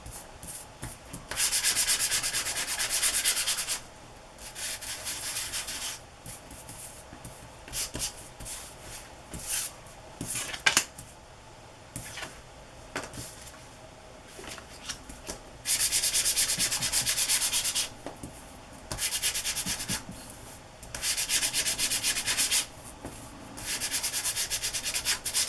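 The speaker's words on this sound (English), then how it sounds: "I have this Making Memories emery board, so let's just rub that a little bit." An emery board rubbed over glossy paper makes a soft, dry scratching, repeated in bursts of a few seconds each with short pauses between strokes, close and fairly quiet.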